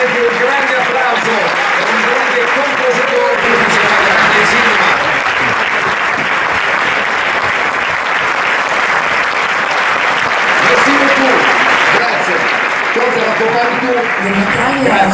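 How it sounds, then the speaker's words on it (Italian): Film festival audience in Monaco applauding a tribute to a celebrated composer, a long, dense and even wave of clapping with voices mixed in, loud and close throughout. "E vorrei veramente un grande applauso."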